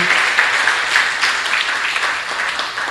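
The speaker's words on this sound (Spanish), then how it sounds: "Yo pido un aplauso para ella" An audience at an 85th anniversary celebration for a radio station breaks into sustained, even applause, a broad continuous patter of many hands filling the space without pause.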